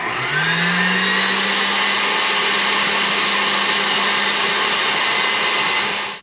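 Stand mixer cranked to high speed on a portable power station, a steady loud motor whine that ramps up at the start and holds evenly before cutting off, with no talking.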